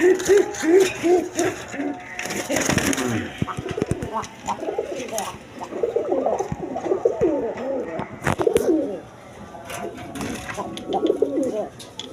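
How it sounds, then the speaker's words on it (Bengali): A pair of Rasgolla pigeons at a market stall coo steadily and close by, deep rolling calls repeating over and over, with scattered background clatter and faint voices. "এখানে এক পেয়ার রাসগোল্লা কবুতর আছে"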